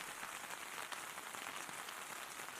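Steady rain falling outdoors in cold weather, a dense even hiss of drops on surfaces with no talk.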